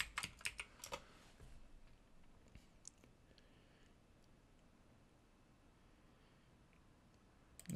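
Someone types a password on a computer keyboard, a quick burst of crisp key clicks at the start and then a near-silent pause with a final tap at the end.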